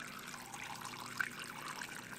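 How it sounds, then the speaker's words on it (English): Water running steadily into a pot to boil yams, a faint continuous trickle and splash with a soft low hum beneath. "So just going to fill this up with water"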